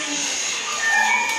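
A house cat meows indoors in a family home: a short, fairly clear tonal cry rising in the second half over steady background hiss, with no talk.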